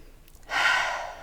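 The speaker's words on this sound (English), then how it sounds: "Just ask yourself, what would make my body feel supported today? How do you do that? Breathe." A single slow, deep breath drawn in and let out, close and soft with an airy hiss that swells after a brief pause and then fades gently, with no talking.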